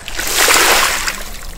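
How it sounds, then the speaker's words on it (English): Water sloshing out of a watering can in a single short splash that swells and fades within a second or two. "he splashes Daddy Pig with water"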